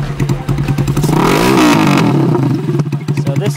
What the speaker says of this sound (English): So this exhaust is quite loud, but that's the way I like it.